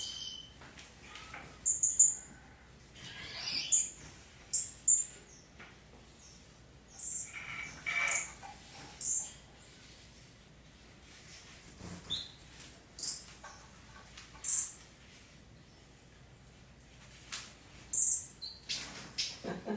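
Scattered high chirps and tweets from small birds in an aviary, short bursts coming and going with quiet gaps, fairly close and soft over a faint background hum.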